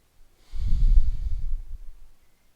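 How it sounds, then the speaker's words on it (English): Deep recovery breathing in a yoga class, a few heavy, breathy exhales with a snort-like rush of air, close and fairly loud, then fading to quiet. "Take some recovery breaths."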